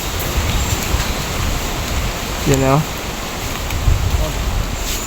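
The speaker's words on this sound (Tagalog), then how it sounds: "Grabe, lakas ng hangin ah." Steady broadband wind roar blowing throughout, with a brief spoken remark over it midway.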